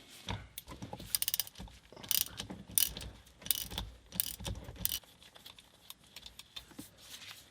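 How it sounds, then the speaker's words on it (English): A ratchet works loose the short shifter bolt on a 2002 Subaru WRX with bursts of rapid clicking pawl strokes close at hand, broken by pauses and metallic clunks, and nobody speaking. "probably got more room to put the ratchet on that side"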